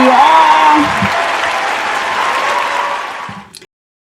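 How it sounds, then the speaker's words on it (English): A gathered audience gives a short burst of applause, loud and full, with a voice talking over the start before the clapping fades and cuts off abruptly. "round of applause to you all"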